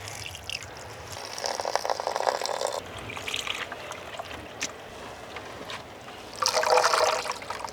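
Water runs and splashes as freshly harvested spinach is washed by hand at home, with bursts of trickling and sloshing that rise and fall, close up and moderately loud.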